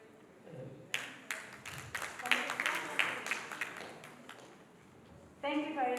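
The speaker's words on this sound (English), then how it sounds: "Can we please applaud again as we go through?" An audience at an Africa nonprofit summit breaks into a brief burst of clapping, a crowd patter of scattered claps that swells and fades over a few seconds, with a voice speaking over it.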